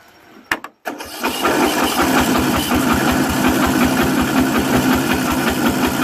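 Craftsman 13.5HP riding lawn mower engine being cranked after flooding and choking, a short burst then a loud, close, steady rapid chugging of the starter turning over without catching.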